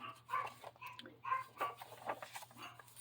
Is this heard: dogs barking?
yes